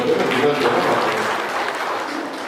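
An audience at a farmers' agriculture campaign inauguration ceremony claps together in a steady burst of applause that fades slightly toward the end, with a voice talking faintly over it.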